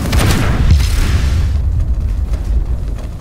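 A heavy cannon blast booms in a PC video game, a loud low explosion with a rumbling tail that fades over a couple of seconds, with no talk.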